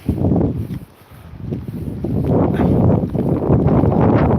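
Wind gusting at the seafront in Withernsea on a wet day, a steady rough roar rising and falling close to the microphone, with brief dips before building again.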